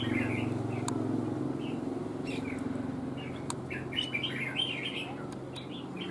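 Red-whiskered bulbul calling, short bright chirps and warbles repeating through the middle and end over a constant low hum and background noise.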